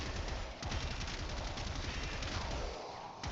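Rapid, relentless fire from the Gotva Prime gun in the Warframe video game, a loud unbroken stream of shots that eases slightly near the end.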